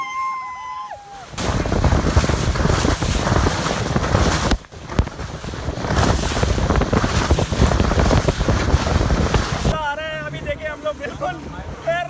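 Speed boat ride out on the sea, with a loud, steady rush of wind and water that runs for most of the stretch and breaks off briefly in the middle. Voices are heard at the start and the end.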